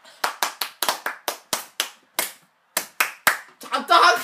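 A few people clap in a slow, uneven rhythm, about a dozen sharp, close, distinct hand claps with short gaps between them. The claps stop briefly, then resume and blur into a rougher burst at the end.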